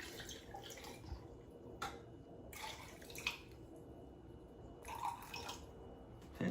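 Water for pie dough trickles and splashes into a container on a kitchen scale, faint and close, in a few separate short pours with quiet gaps between them.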